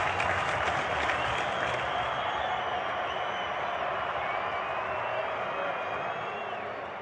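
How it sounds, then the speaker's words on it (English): A cricket crowd at a Pakistan Super League match between Multan Sultans and Peshawar Zalmi applauds and cheers after a six, a broad, steady roar of clapping that holds strong and then eases slightly. "The crowd is on their feet after that massive six."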